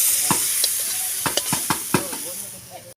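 Spiced masala, fully fried down, poured into a pot of khichuri, giving a close, loud sizzle with several sharp stirring and scraping clatters over steady frying hiss.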